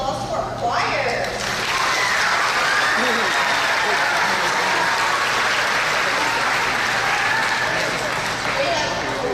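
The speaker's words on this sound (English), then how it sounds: "can we give another round of applause to our choir?" An audience at a middle and high school Veterans Day program applauds the choir, a dense, loud, sustained wash of clapping lasting the whole stretch.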